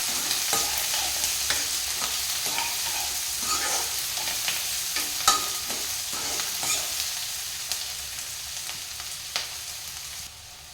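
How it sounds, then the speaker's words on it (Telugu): Onions frying and sizzling in a hot pan for a home-style curry, a steady crackling hiss with frequent stirring scrapes and clicks, close and continuous, easing off toward the end. "ఆనియన్స్ బాగా ఫ్రై చేసుకోవాలి"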